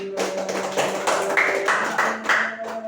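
Rhythmic hand clapping repeats at an even, fairly quick beat, about nine distinct claps, with a faint sustained tone in the background and no speech.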